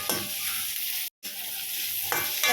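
Onions and bell pepper sautéing in a pan for an egg manchurian dish, giving a steady close hissing sizzle with a brief silent break and a couple of scraping stirs.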